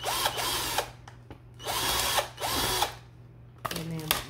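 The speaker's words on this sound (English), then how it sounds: "my drill bit is a little wobbly, so I gotta fix that" A power drill bores holes through resin notebooks in three close, loud bursts separated by short pauses, with a final shorter spin at the end.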